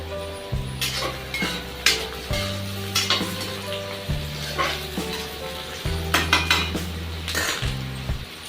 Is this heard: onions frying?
yes